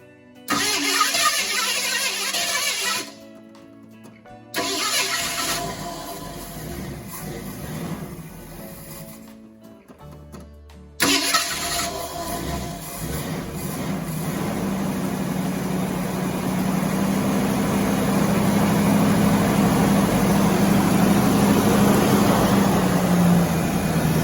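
A 1966 Ford Mustang with a 302 V8 cranks in short bursts, then catches and settles into a steady, loud idle that rises slightly as it runs, heard up close with no talking.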